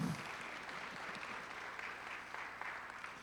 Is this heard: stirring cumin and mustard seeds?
no